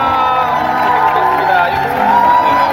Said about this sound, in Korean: 다시 한 번 더 큰 박수로 환영해주시기